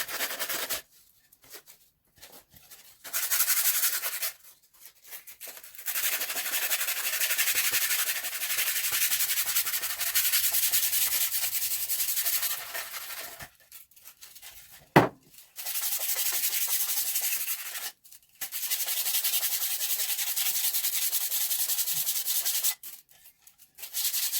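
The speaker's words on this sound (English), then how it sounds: "The harder you rub, the more paint's going to come off." Paint being rubbed off a Dollar Tree wooden plaque makes long bursts of dry, gritty scrubbing, close and continuous, separated by short silent pauses.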